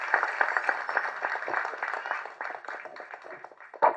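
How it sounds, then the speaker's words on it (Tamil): An audience at a film audio launch for the movie Lara claps for the producer, a dense patter of many hands heard at a moderate distance that holds steady for several seconds. "எல்லாரும் ஒரு பெரிய கைத்தட்டு தட்டுங்க நம்ம தயாரிப்பாளருக்கு."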